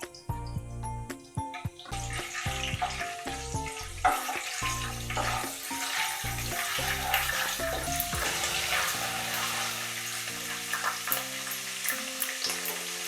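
Ginger paste fries in oil with a steady sizzle that builds into a dense crackle, with scraping stirs, while soft music with sustained tones plays along in the background.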